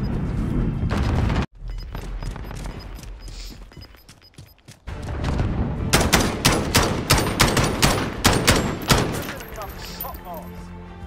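Gunfire in a Call of Duty match, a dense burst of rapid shots followed by a pause, then a longer string of loud repeated shots with booms and mechanical clatter. A voice can be heard in places.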